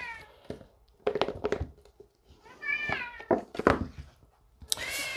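A cat meows several times up close, its calls separated by short thumps and rustles, with no one speaking.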